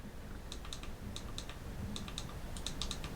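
Keys on a Bluetooth keyboard for an iPad are tapped in quick, light clicks, roughly fifteen presses in small irregular clusters, close but soft over a quiet room hiss.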